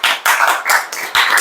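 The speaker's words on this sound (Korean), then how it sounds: "호경화 집사 여러분 박수로 축하해 주십시오." A group of people clapping in several loud bursts with brief dips between them in a church service, close and lively, with no voices.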